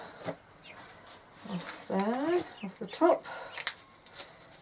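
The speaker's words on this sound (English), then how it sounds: "I'm actually in the greenhouse with all the chickens, all the baby chicks, so that's what the noise you can hear." Chickens and baby chicks in a greenhouse give scattered clucks and peeps in the background while a person talks close by.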